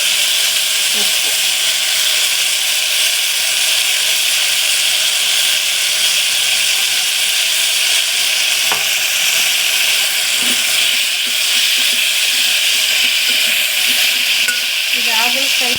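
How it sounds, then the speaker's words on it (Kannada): A bitter gourd fry with tamarind juice is stirred in a pan. The food sizzles and hisses loudly and steadily, with occasional scraping and stirring clatter. "ಹುಣಸೆ ರಸ ಹಾಕಾದ್ಮೇಲೆ ಸ್ವಲ್ಪ ತಿರುಗಿಸ್ಕೊಂಡ್ಬಿಡೋಣ"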